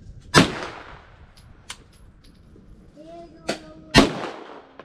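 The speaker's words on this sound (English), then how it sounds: "I'm shooting way up." Gunshots at an outdoor shooting range: three sharp, loud reports spaced a few seconds apart, with a couple of fainter pops between them and a brief voice in the background.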